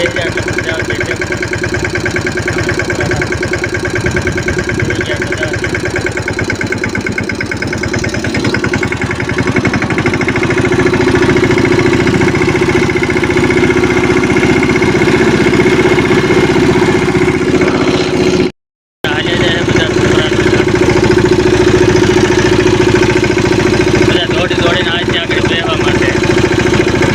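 A tractor engine runs steadily close by, a continuous low mechanical drone that keeps up for the whole stretch with only a momentary cut partway through.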